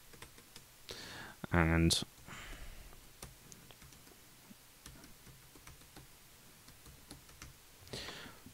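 Password details are typed on a computer keyboard as light, scattered key clicks throughout. Someone speaks briefly, and a short tonal electronic chirp sounds early on.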